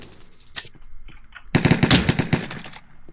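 Gunfire in Minecraft during a cops-and-crims match: a short single shot, then a rapid burst of sharp automatic shots lasting about a second, loud and close.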